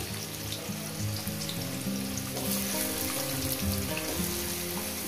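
Potatoes hiss and sizzle steadily in hot oil in a pan, a dense continuous frying sound with soft background hum and no talking.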